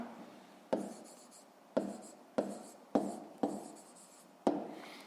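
Handwriting while working a fifth-grade math exercise, heard as a series of about six sharp strokes at irregular intervals, each followed by a brief scratchy trail. It is close and fairly quiet, with no talking.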